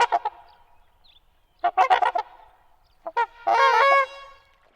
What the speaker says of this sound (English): not as vocal as our indigenous swans, like these trumpeter swans